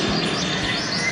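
A pet bird chirps beside a road near a junior high school area, short tweets standing over a steady wash of traffic and street noise.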